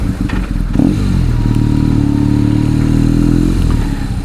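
A BMW R1200S motorcycle rides through traffic, splitting lanes. Its engine note is loud and close, a sustained steady drone with a brief rise in revs near the start and some wind and road clatter.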